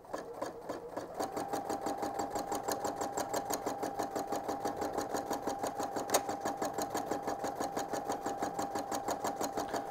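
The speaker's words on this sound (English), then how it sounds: "So I'm going to be sewing around the edge of the nose." A sewing machine stitches around the edge of a fabric nose on a glow-in-the-dark sugar skull quilt, its needle pulsing in a steady rapid rhythm at medium pace with a constant motor hum, close and alone.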